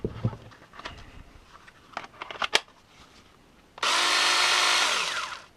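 A Parkside 20V cordless pruning saw bursts into loud, steady running for about two seconds after scattered handling clicks and knocks, then winds down.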